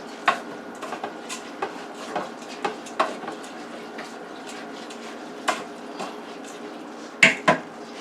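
Ingredients for a chicken, rice and broccoli meal mixed in a dish, with scattered clinks and scrapes of a utensil against the container, close but quiet and intermittent, no talking.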